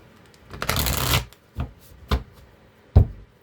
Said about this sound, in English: All right, let's get a good shuffle here.